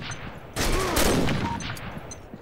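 A sudden burst of rapid video game gunfire crackles and rattles, loud and dense, then tails off into scattered echoing shots.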